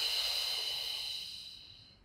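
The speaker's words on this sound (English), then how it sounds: "Exhale." A long, soft exhale during a beginner Pilates core exercise, a breathy hiss that starts steady and slowly fades away, close and quiet with nothing else heard.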